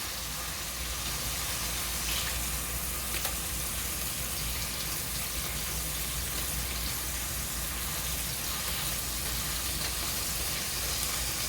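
Fresh burger meat frying in a hot pan, a steady, dense sizzle with crackling spatter, close and continuous for the whole stretch with no talking.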